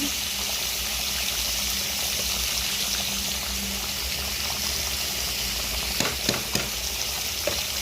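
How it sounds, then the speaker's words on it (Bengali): Prawns and green jackfruit sizzle steadily in ghee in a pan, with a few sharper scraping stirs near the end, close and continuous with no talking. "ভালো করে নেড়ে দেবো"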